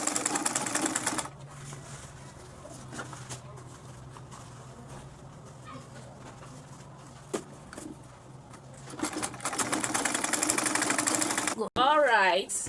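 A sewing machine stitches fabric for a cap, its fast steady whirr loud and close at the start, dropping away to quiet room noise for several seconds, then running again before a brief clatter and a high squeak.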